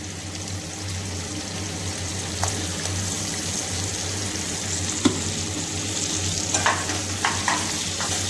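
Ground spice paste of ginger, garlic, coriander leaves, coriander powder and coconut stirred and frying in a pan on low heat for taro curry, a steady soft sizzle with occasional scraping stirs, close and alone.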